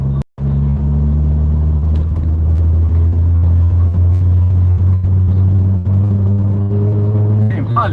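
Car driving home along a road on grippy tyres, a loud steady low engine and road rumble heard from inside the cabin, holding constant with slight shifts in pitch.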